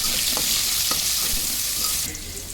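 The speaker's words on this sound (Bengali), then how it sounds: "কড়াইতে তেল দিয়ে তেলে আমি আলু নুন এবং হলুদ দিয়ে একটু লালচে করে ভেজে নেব" Potatoes with salt and turmeric fry in hot oil in a wok, giving a close, steady hiss of sizzling broken by a few soft clicks of stirring.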